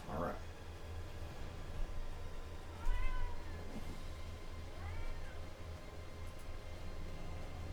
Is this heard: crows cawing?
no